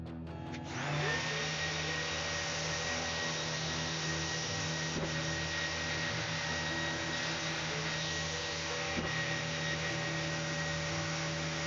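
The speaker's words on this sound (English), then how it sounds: "I'm going to sand with 240 grit paper, very smooth, very quickly, sand those edges" Steady electric power-tool hum with a continuous motor drone, likely a sander smoothing the edges of a wooden cookie slab coffee table with 240 grit paper, loud and constant throughout with no talking.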